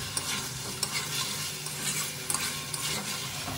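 Pointed gourd being sautéed with spice paste in a hot pan, a steady close sizzle broken by scraping stirs and a few sharp clinks of the spoon against the pan, with no voices.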